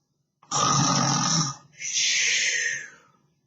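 A voice imitates an English bulldog's heavy snoring: two long, rasping snores in a row, close and loud, the second a breathier, higher wheeze.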